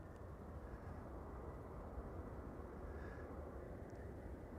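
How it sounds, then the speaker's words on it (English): Departing KLM airliner on flight 765 at Amsterdam Schiphol Airport on a sunny morning, a steady, broad jet roar that holds evenly throughout, heard from a distance with no talking. "KLM flight 765 on its way to Oranjestad"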